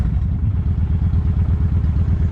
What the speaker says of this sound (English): So, there's a carbureted bike.